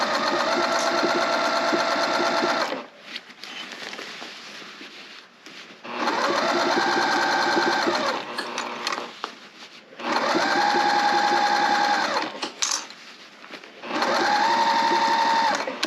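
Sewing machine stitching a tote bag, running in four long steady bursts of a few seconds each, separated by short pauses; close, loud and mechanical with a continuous whirring hum.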